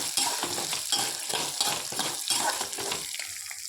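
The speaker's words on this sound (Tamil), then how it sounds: "சின்ன வெங்காயம், பூண்டு, வரமிளகா, கருகாப்பில் இதெல்லாம் போட்டு நல்ல வணக்கிக்கோங்க" Shallots, garlic, dried red chillies and curry leaves frying in a pan for beetroot chutney give a loud, steady sizzle broken by rhythmic scraping stirs.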